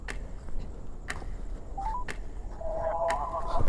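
Short DTMF keypad tones from a phone being dialed, a few separate beeps followed by a longer tone, near and clear over a low room rumble with no talking.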